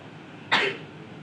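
A single short, sharp sneeze bursts out once in a quiet room and fades quickly, with no other sound around it.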